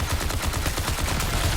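Rapid gunfire in the video game Marathon, a fast burst of loud repeated shots fired continuously at something.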